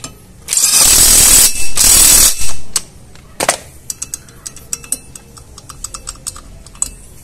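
A ratchet wrench tightening a front brake bolt on a Chevrolet Aveo: a loud burst of rapid clicking ratchet, a brief pause, then a series of separate sharp clicks and knocks.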